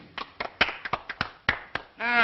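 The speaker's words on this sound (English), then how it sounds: "Applause." A small audience in a 1932 film claps, a sparse run of separate handclaps rather than a full ovation, then a voice comes in at the end.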